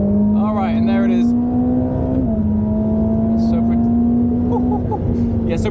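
A 1,000 horsepower four-wheel-drive race car accelerating from the cabin, a loud steady engine drone that shifts pitch once and climbs again, with people talking over it.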